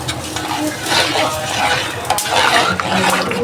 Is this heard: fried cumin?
yes